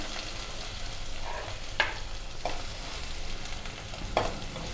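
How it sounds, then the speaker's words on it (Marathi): Chopped medium onion with a few garlic cloves fries in a pan, a soft continuous sizzle broken by three or four sharp spatula clicks and stirs, close and quiet. "कांदा थोडा परतून घेऊ आपण"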